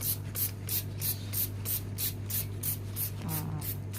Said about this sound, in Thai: ฉีดพ่นไปเลยจ้า